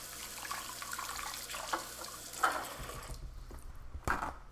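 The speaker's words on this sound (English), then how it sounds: "I'm gonna rinse this because I threw them in there." Running water from a sink tap flows steadily as items are rinsed under it, with soft splashes and a few small knocks near the end.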